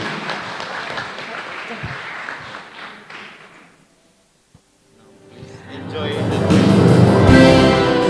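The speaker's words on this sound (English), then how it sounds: "Please give applause to Icteca" An audience applauds at the closing ceremony of the ICTECA 2023 international conference at Universitas Semarang. The clapping swells in loudly after a short pause and continues as a dense, close wash, with talk heard before it.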